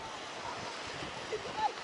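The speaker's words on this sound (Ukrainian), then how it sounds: "Зараз дуже сильний вітер. Оцініть, як качає море." Strong wind and rough waves on the Black Sea at a fishing spot, a steady broadband roar of surf and gusting wind buffeting the microphone, continuous with no clear breaks.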